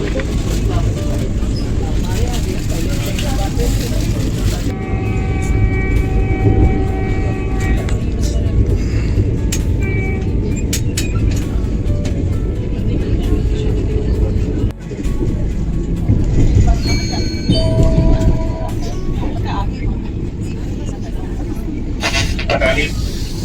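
The 22545 Lucknow–Dehradun Vande Bharat Express rolls slowly past Shahjahanpur, heard from inside the coach as a steady low rumble with faint clanks. A voice talks over it throughout.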